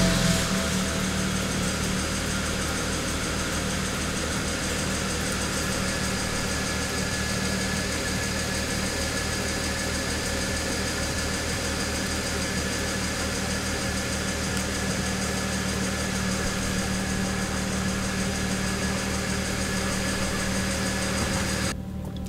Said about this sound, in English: Now we're running the new corrected, updated file. Let's go see if it starts now.